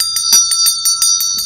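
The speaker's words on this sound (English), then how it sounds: "We get to ring the bell." A small bell rings rapidly during a tarot reading, giving about eight quick, even strikes over a sustained bright ringing tone. It sounds close, loud and clear, with no voices over it.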